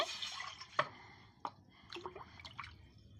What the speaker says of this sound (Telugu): ఈ గిన్నెల కొలతతోని నీళ్ళు పోసుకుందాము